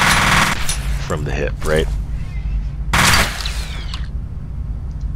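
In F.E.A.R., an enemy fires a weapon from the hip while moving, loud bursts of gunfire in two main clusters with brief gaps between them, under someone talking.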